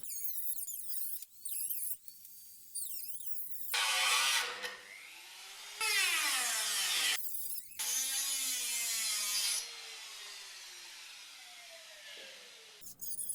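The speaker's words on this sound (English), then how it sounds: "I decided to cut a new line into this piece a little further up away from the rust" A rusty BMW E30 325i Touring car body panel being cut along a new line: bursts of harsh, high grinding, several seconds each, separated by short pauses. Close and loud, no speech.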